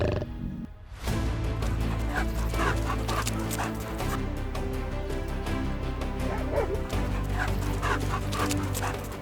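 African wild dogs on the savanna yip and bark in a steady run of short calls alongside a dense, loud layer of other sound, with no pause across the stretch.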